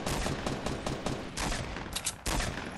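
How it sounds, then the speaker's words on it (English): Rapid Fortnite gunfire rattles in dense bursts, loud and close, a continuous stream of sharp shots with brief pauses and a final heavy volley. "I'm getting shot from somewhere"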